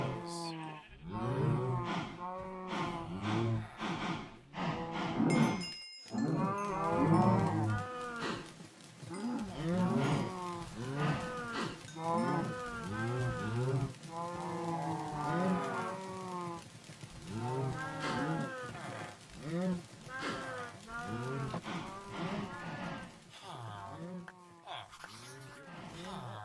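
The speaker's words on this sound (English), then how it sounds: "Let's go greet the cows." Cows mooing in the Minecraft video game, a steady chorus of repeated low lowing calls overlapping one another throughout, loud and close, with occasional bleat-like cries mixed in.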